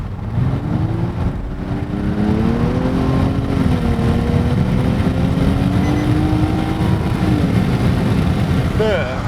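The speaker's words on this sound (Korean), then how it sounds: "주행 모드는 스포트에 놓고 한번 주행을 시작해보죠" A Nissan Maxima 3.5 with CVT, driven in sport mode, accelerates hard; the engine note climbs and holds in steady rising sweeps, loud and close, with a brief shift near the end.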